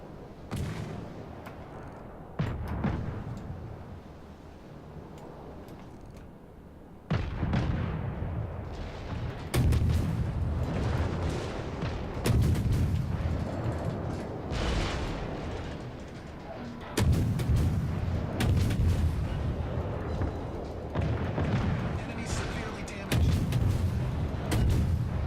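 Heavy artillery booms and rattling gunfire in a naval boarding video game, dense and continuous with sudden louder surges of close explosions.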